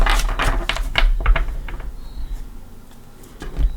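Tarot cards riffle and flick together in a quick burst of crisp snaps, then taper into a few softer taps, close and clear.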